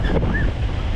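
Strong monsoon wind roars steadily across the microphone on a trek to Bandaje Falls in Karnataka, a loud, continuous rushing buffet with no voices over it.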